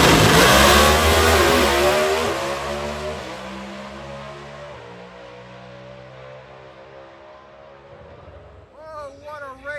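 Naturally aspirated drag racing engines roar off the line at a Pro Superstar Shootout, a loud, rising howl that gradually fades as the cars pull away into the distance, with a brief burst of crowd or announcer noise at the end.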